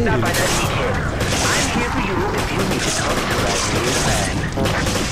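A grenade explosion in the Resident Evil 5 video game erupts amid dense, loud gunfire and crashing battle noise that fills the whole scene, while a player talks over it.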